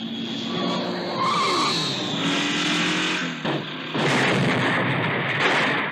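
Cars skidding and crashing from the Death Race 2000 movie trailer, with loud screeching tires, roaring engines and heavy impact bursts layered in a dense, chaotic action mix.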